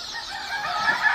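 Chickens in a poultry farm shed with rice-husk litter cluck and murmur in a dense, continuous chorus that swells slightly toward the end, with no voices over it.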